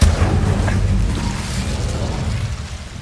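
An Incendio fire spell goes off in Hogwarts Legacy, a low booming burst that fades into a rumbling whoosh.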